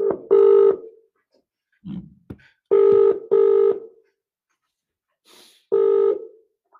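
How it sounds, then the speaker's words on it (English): A phone call being dialed and ringing: short bursts of ringback tone repeat in a steady on-off rhythm, with a few faint clicks and a short chirp between rings, close and clear, with no talk. "I'm going to get Claudia on the phone."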